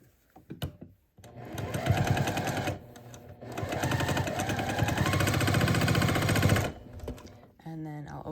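A sewing machine stitching the last column of a quilt block runs in two long, steady, rapid bursts separated by a brief pause, loud and close, with small handling clicks around them.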